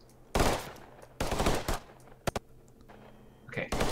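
Gunfire in the game Totally Accurate Battle Zombielike: a few loud bursts of shots separated by pauses, with a couple of short sharp cracks between them and a voice briefly heard at the end.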